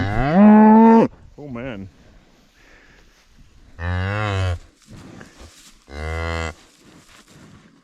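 A cow and her newborn calf moo in a barn: a loud, long low moo, a short higher bleat, then two more drawn-out moos, with someone briefly speaking between calls.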